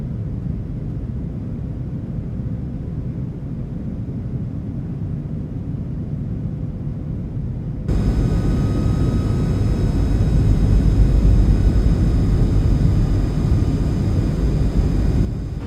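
Airliner on landing approach in Microsoft Flight Simulator 2020, heading into Seattle: a steady, loud broadband cabin and engine rumble that steps up abruptly about halfway through and holds there, with no talk over it.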